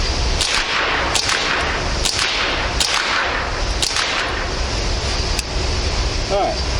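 Five sharp suppressed shots from an M&P 15-22 rifle fitted with a Guardian 22 suppressor, fired outdoors at 25 yards, ring out in an uneven sequence over steady background noise.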